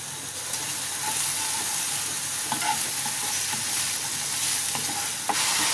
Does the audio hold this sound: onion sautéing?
yes